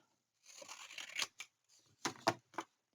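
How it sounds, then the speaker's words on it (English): Several crisp snips and slicing strokes of scissors cutting paper, close by, in short irregular bursts with quiet gaps between. "Cut with my scissors."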